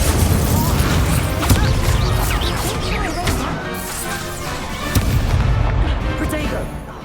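Incendio fire spell cast in Hogwarts Legacy gameplay, a loud, dense burst of crashing, booming magical impacts that stays busy and forceful throughout, with sharp whacks near the start and again partway through.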